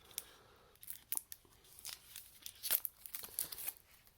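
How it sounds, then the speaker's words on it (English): Tape ripped off the packaging of an MPOW Flame Pro, a run of quiet, sharp tearing and crinkling bursts up close, irregular and with no talk. "It's got some tape around it, so I'm going to take this off"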